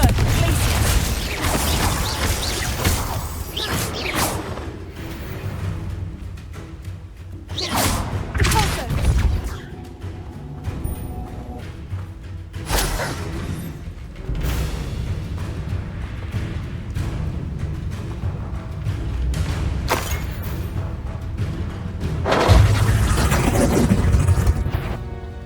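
Spell combat in Hogwarts Legacy, with Confringo and Glacius cast amid repeated booms, crashes, thuds and whooshes over a dense game soundtrack. Loud bursts recur throughout, strongest near the end, and character voices come and go.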